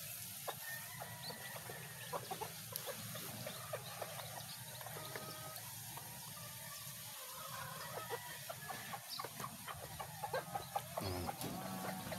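Hens cluck steadily while many small chicks cheep in high, busy chirps throughout, a continuous farmyard chorus at moderate distance.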